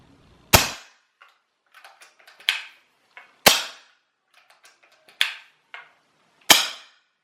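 Sharp, loud cracks from an unsuppressed Taipan Veteran airgun ring out at roughly one-second gaps, five in all, with quieter clicks and mechanical handling in between; no voices.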